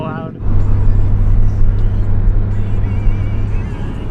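Loud car engine from a Scion FRS or Civic Si, a steady deep droning rumble close by after a brief quieter start, with voices talking underneath.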